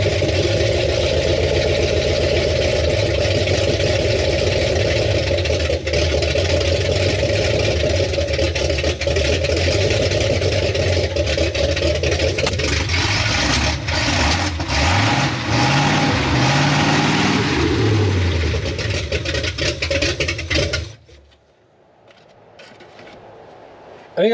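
An old farm truck with a newly swapped engine runs steadily at a rough idle, its note rising and falling as it revs, then abruptly cuts out and falls quiet near the end.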